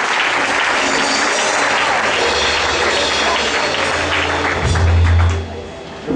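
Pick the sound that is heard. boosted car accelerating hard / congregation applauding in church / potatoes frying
congregation applauding in church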